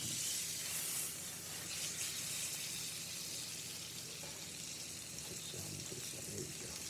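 Margarine or butter sizzles in a hot pan, a continuous bright hiss with crackly spitting texture, close and fairly even in level, with no clear talking over it.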